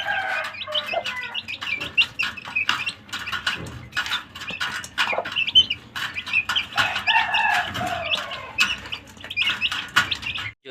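Hens clucking and squawking in a backyard coop where millet grain has been set out, with busy, overlapping bird calls and chirps close by; no one speaks.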